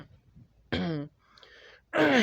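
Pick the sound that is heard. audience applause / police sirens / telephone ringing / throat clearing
throat clearing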